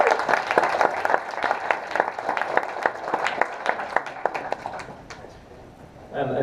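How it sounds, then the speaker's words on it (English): An audience at a game developers' talk claps to welcome a speaker on stage, a dense burst of many hands that fades gradually before a voice returns near the end. "Come on, round of applause."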